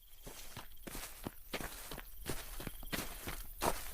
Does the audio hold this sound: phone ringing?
no